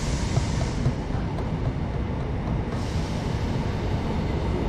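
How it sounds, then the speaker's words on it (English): An empty Southport passenger train passing at Bolton station, a loud steady rumbling roar of wheels and motors close by, continuous throughout with no talk. "That is a very empty Southport train."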